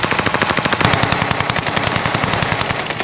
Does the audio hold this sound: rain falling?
no